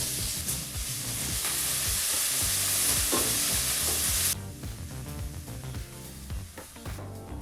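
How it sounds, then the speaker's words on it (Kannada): Chopped onions fry in hot oil over a medium flame for veg pasta. A loud, steady sizzle fills the first half, then drops to a softer crackle with close stirring and scraping. "ಈಗ ಬಿಸಿಯಾದಂಥ ಎಣ್ಣೆಗೆ ಈರುಳ್ಳಿನ ಸೇರಿಸಿ ಮೀಡಿಯಂ ಫ್ಲೇಮಲ್ಲಿ ಒಂದು 2 ರಿಂದ 3 ನಿಮಿಷ ಫ್ರೈ ಮಾಡ್ಕೋಬೇಕಾಗತ್ತೆ."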